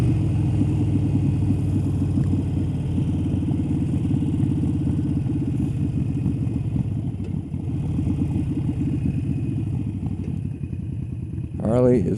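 A Harley-Davidson 1200 Iron motorcycle engine rumbles loud and close in a steady throbbing idle with a quick rev at the very end, while someone talks over it.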